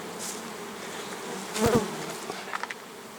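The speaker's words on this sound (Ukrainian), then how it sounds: "Бджоли просто не влазять у лятки." A few honeybees drone faintly at crowded hive entrances, with one passing close and louder buzz in the middle and brief buzzy flickers toward the end.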